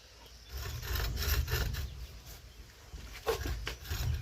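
A hand saw cuts a wooden stick with faint rasping strokes over a low rumble of background noise, and no one speaks.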